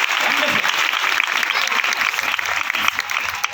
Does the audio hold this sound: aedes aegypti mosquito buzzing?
no